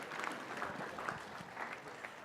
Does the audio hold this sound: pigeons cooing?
no